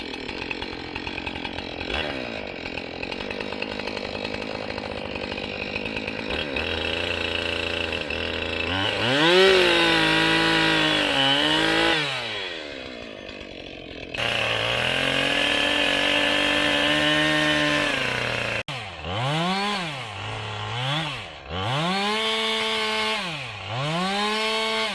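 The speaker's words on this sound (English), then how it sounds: "I just turned that chainsaw off." Chainsaw cutting a tree along a forest road, loud and close, with the engine revving and bogging repeatedly as the bar bites into wood, steady stretches broken by rising and falling pitch swells, no talk.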